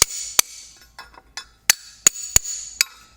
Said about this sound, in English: So now we need to take our packing iron and pack it down again.